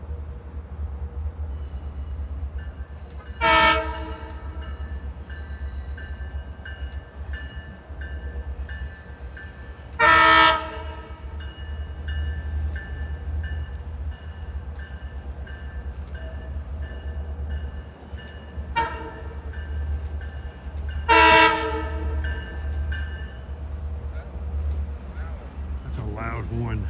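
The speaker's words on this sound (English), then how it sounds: "That's a loud horn." Horn of an LIRR DE30AC diesel locomotive, #413, fitted with a K5LLA chime, sounding four short loud blasts at uneven intervals over a steady low rumble of the train in motion; voices talk in between.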